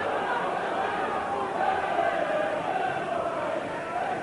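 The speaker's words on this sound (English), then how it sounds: "So now we're just getting a bit more enthusiastic cheering for this fight now." Steady, dense crowd noise from a boxing match audience at a Nigel Benn vs Juan Carlos Gimenez fight, a continuous roar of cheering and chatter that rises slightly in the middle and holds throughout.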